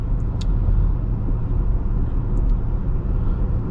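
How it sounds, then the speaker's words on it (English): Road noise inside a 2024 Audi Q3 Premium Plus SUV on larger wheels over broken pavement: a steady, muted low rumble of tires and road, with a couple of faint clicks and no talking. "There's a little bit of road noise in general just from the extra height, but it's very quiet, very muted for 45 grand."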